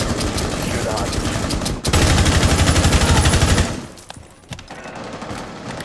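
Rapid automatic gunfire from Rainbow Six Siege rattles loudly in sustained bursts, breaking briefly, resuming heavier, then dropping to scattered distant shots.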